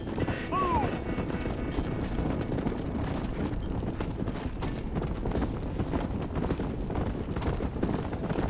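Hooves clatter in a rapid galloping rhythm as a horse in the video game Red Dead Redemption charges through a herd of cattle, joined by a brief neigh and busy game sound effects throughout.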